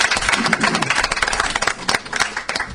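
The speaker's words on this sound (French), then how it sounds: "on applaudit très fort Ismaël Cissé." Dense clapping from an audience, loud and irregular, filling the short stretch with rapid overlapping claps.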